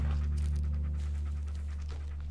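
A dog pants in rapid rhythmic breaths close by in the Blair Witch video game, over a steady low ambient hum.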